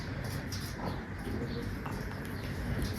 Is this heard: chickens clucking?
no